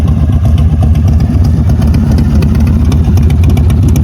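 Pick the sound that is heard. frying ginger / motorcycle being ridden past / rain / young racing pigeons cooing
motorcycle being ridden past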